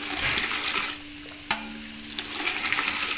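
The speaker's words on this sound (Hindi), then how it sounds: "हाफ कप के करीब ठंडा पानी और ऐड किया है।" Cold water, about half a cup, poured into a Kashmiri pink tea mixture: a steady broadband splashing pour that briefly drops, then resumes with a sharp clink near the middle, close and fairly loud, with no talk.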